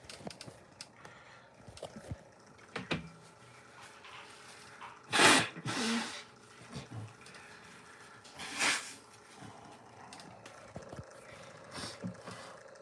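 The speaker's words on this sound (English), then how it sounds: "I have to blow my nose" Two short, noisy blasts of nose blowing, a few seconds apart, in an otherwise quiet room with faint shuffling.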